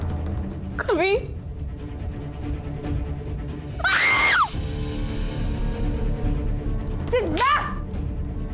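A person lets out three loud, close screams spaced a few seconds apart in a tense TV drama scene, with a dull rumbling background between cries.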